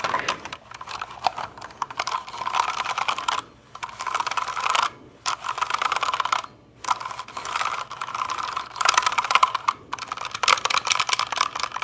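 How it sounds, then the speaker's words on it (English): Fingers tap and clack across a springy computer keyboard in close, crisp bursts, with rattling key mechanisms and several brief pauses between flurries. "this keyboard tapping does not sound that great"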